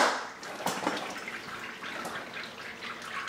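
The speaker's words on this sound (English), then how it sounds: "Make sure we're not dripping too bad." Wort drips and trickles steadily from the lifted malt pipe of a Gen 4 65-litre Brewzilla back into the kettle during a smoked porter brew day, a close and continuous splashing with no talk.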